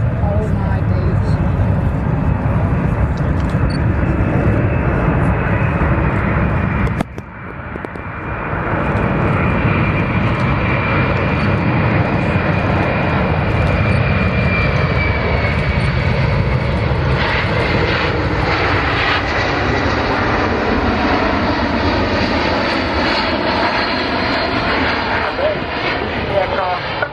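RAF Globemaster transport aircraft flying a display at the Cosford air show, a loud, sustained roar of jet engines that swells and shifts in pitch as it passes, with a brief dip partway through and chatter from the crowd under the noise.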